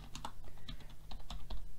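Fingers type a folder name on a computer keyboard, a quick, close run of light, irregular key clicks with brief pauses between bursts.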